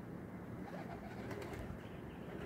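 A pigeon coos softly in repeated low, throaty murmurs as racing pigeons land, faint and fairly close against a light background hiss, with no talking.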